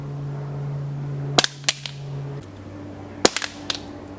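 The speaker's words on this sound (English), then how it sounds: "First, we're going to go with the standard CZ magazine. We're going to drop it about shoulder height, directly on the feed lips." A standard CZ EVO 3 pistol magazine is dropped from shoulder height onto concrete, landing on its feed lips, with two sharp clattering impacts and quick bounces over a steady background hum.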